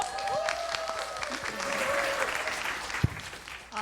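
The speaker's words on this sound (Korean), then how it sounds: "박수 부탁합니다" An audience at a Bible study seminar claps together in sustained, dense applause that carries on at a steady level for several seconds, with a sharp single knock near the end.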